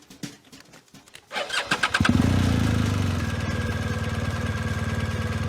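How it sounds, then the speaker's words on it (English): An off-road motorcycle engine cranks with sputtering turns, catches and settles into a loud, steady low idle as the rider feathers the clutch to creep uphill, close to the microphone with no talking. "What you'll hear is the engine about to die at a certain point."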